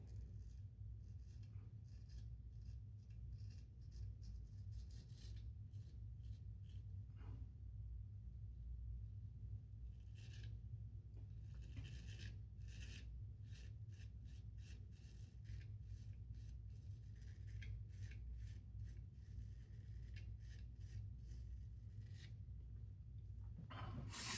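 Straight razor shaving coarse facial hair with stretched skin, a close, steady scraping rasp running throughout, with short bursts of sharper strokes over a constant low background hum.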